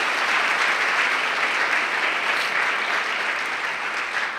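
A dinner audience at an award event bursts into steady, full applause that carries loud and dense throughout, with no voices above the clapping.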